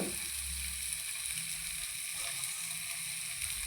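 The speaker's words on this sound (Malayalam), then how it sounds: "മത്തി പൊരിക്കുന്നത്" Spice-coated sardines fry in a hot pan, producing a constant bright sizzle with a soft low rumble underneath, heard alone and fairly quiet.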